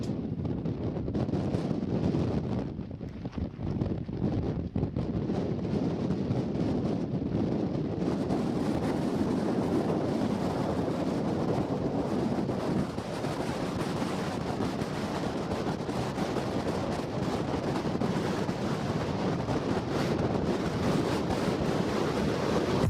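Stormy wind in Sweden during a glider landing, a continuous rushing, buffeting roar battering the microphone with surf-like surges, steady and loud throughout with no voices.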